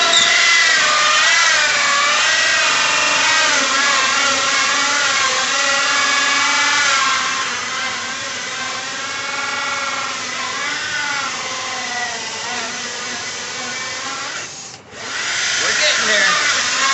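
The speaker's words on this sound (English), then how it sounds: "I'm going to start drilling my hole. My hole saws might be a little bit dull." Slightly dull hole saw boring through wood for a birdhouse, a loud continuous grinding drone that rises and falls in pitch, briefly cutting out near the end before resuming.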